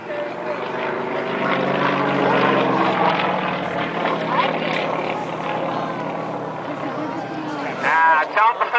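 A Yak-18T propeller aircraft doing aerobatics such as vertical climbs and torque rolls: a steady, loud propeller drone under continuous commentary from an announcer.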